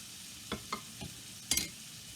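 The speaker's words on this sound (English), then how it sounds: "To that bacon fat, I'm adding a whole onion." A whole onion stirs in hot bacon fat, with a few soft scraping stirs over a faint, steady sizzle, quiet and close.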